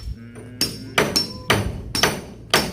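A hammer smashes into a concrete house pillar during building work, five sharp, loud impacts spaced about half a second apart, each one ringing briefly.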